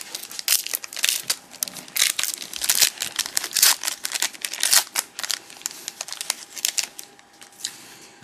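A trading card foil pack from a 2007 Upper Deck Legendary Cuts box being torn open, close crinkling and ripping of foil in quick irregular bursts, with no talk.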